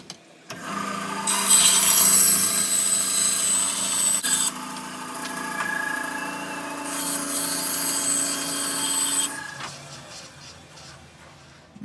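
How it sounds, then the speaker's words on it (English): A bandsaw cuts wooden planter parts in steady bursts, a loud buzzing rasp rising and falling as each cut is fed through, with brief pauses between passes and no talking. "Let me take you to the bandsaw."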